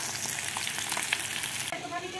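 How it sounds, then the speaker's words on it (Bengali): Small fish fry in a pan with a loud, continuous sizzle and crackle close by, the hiss dropping slightly near the end. "এখন মাছ ভাজা হইতেছে"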